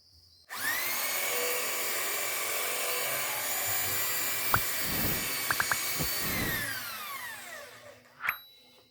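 A hammer drill spins a pin to round it, running steadily and loudly for about seven seconds, with a few sharp contact clicks near the end before it winds down, and no one speaking.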